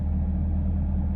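Truck engine with extra coils, wires and plugs and a muffler delete or Flowmaster exhaust, idling in a steady low rumble, loud and continuous throughout with no pauses.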